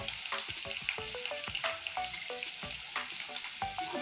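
Jackfruit and potato fritters sizzle and crackle steadily in hot frying oil, with sharp popping bursts spread across the whole stretch, loud and close with no voices.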